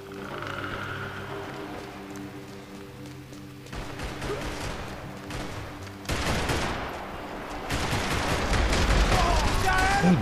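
Gunfire in the Max Payne 3 multiplayer shooter, a busy mix of shots and bursts that grows denser and louder toward the end, with game sounds and some voice underneath.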